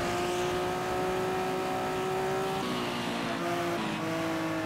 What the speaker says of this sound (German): Das klingt ziemlich komisch, wenn man hier vom Gas runtergeht.